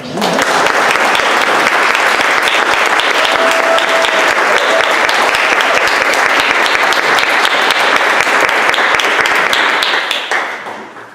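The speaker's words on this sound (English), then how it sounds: "I don't think we applauded for Dr." An audience at a neighborhood meeting in a clubhouse applauds Dr. Kurt, a loud, dense roar of clapping that carries on steadily for about ten seconds before tapering off at the end, with a brief murmur of voices underneath.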